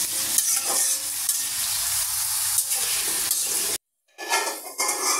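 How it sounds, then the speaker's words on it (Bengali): Potato pieces fry in oil with a little salt, giving a loud close sizzle while a spatula stirs and scrapes the pan, broken by a brief cut to silence before the frying resumes. "একটু সামান্য লবণ দিয়ে আলুটা কিছুক্ষণ ভেজে নেব।"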